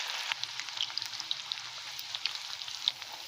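Gobi 65 cauliflower pieces frying in hot oil, a close, crackling sizzle with scattered sharp pops and spits over a steady bubbling hiss, heard alone without speech.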